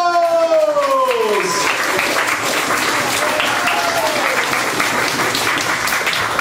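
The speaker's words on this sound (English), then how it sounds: "Clap, cheer, whoop, and welcome to the stage, Chris Eels!" An audience at a comedy club night claps, cheers and whoops to welcome a comedian to the stage, a loud, dense, sustained ovation that starts just as a compere's voice finishes.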